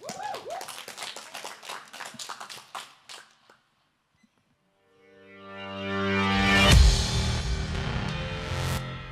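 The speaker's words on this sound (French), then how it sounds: "Allez, c'est parti, on vous applaudit" An audience at a small, intimate couch concert claps in a sparse, uneven burst that fades to silence, followed by a swelling music track that builds loudly.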